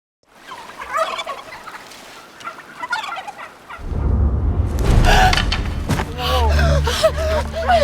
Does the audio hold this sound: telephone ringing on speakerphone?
no